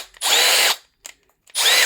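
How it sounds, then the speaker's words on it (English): Two bursts from a Milwaukee M12 Gen 3 cordless drill, a roughly half-second whirring run, then a brief blip and a second run starting, loud and close with no talk. "So I'm happy with this drill."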